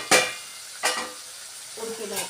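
A spoon scrapes and stirs cluster beans in a pressure cooker with a few sharp metallic strokes over a soft sizzle, followed by a brief clink near the end.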